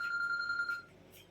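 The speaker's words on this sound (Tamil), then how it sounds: "ஃபோன் வருது" A telephone bell rings indoors in a couple of steady electronic bursts, fairly clear with a low room hum beneath, then stops abruptly.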